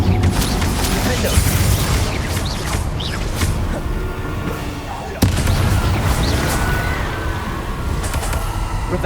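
Incendio fire spell from Hogwarts Legacy, loud and continuous bursts of crackling, booming fire effects running the whole stretch, with one sharp jolt midway and dense low rumble throughout.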